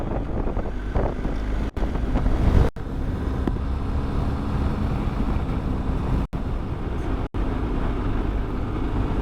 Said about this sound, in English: the air, the wind is so hot out here